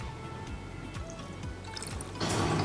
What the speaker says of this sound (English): And then I'm gonna finish it with some ginger beer.